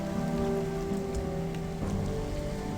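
Rain falling in the video game Gothic, a steady, dense patter of drops on surfaces that continues evenly without pause, with no voices.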